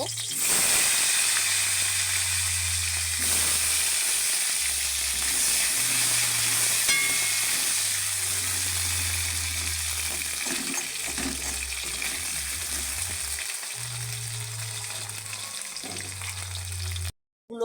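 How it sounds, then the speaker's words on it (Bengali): Potatoes frying in hot oil for a Bengali fish curry, a steady loud sizzle that runs almost unbroken with low bubbling underneath, close to the pan, then cutting off abruptly at the end. "তেলের মধ্যেই দিয়ে দিচ্ছি আলু আলুগুলোকে ভালো করে লাল লাল করে ভেজে নেব"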